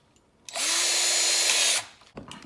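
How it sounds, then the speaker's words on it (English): A power drill with a 5/32 bit drilling a pilot hole whines loudly for about a second and a half, a steady high-pitched buzz that starts and stops abruptly, with quiet room sound on either side. "if I didn't drill my pilot holes, this is what it would look like"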